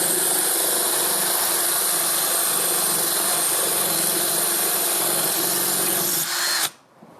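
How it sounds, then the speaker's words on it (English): Electric drill with a bit boring through a wet ceramic plant pot, a steady, loud whining hum held for about six seconds before stopping abruptly, with no talk. "it lubricates the whole process so that your drill bit doesn't get too hot and your pot, the ceramic, doesn't get too hot either"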